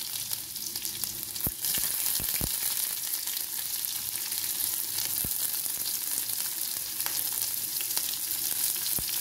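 Garlic and onion fry in a pan with a steady, loud sizzle that runs nearly throughout, broken by a few sharp clicks and taps of a utensil against the pan.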